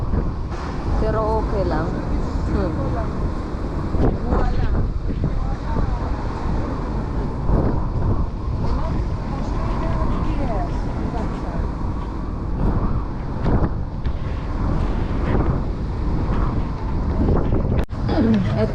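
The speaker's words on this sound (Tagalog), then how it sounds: "nakikita nyo, lakas ng hangin, linilipad ang buko" Strong night wind gusts across the summit of Mount Lycabettus in Athens, a steady roaring rush buffeting the microphone for the whole stretch, while people talk close by over it.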